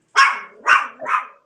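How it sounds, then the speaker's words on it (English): Dogs bark three times in quick succession, loud and close, with the first bark strongest and the last two slightly softer, and silence around them. "I'm sorry about my dogs."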